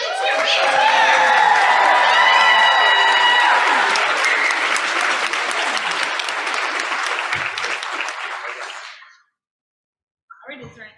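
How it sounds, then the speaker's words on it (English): A ceremony crowd gives a big cheer for graduating education students, loud whoops and shouting over vigorous applause that swells, then fades out, before a short voice follows after a pause. "let's do one final big cheer for all of you"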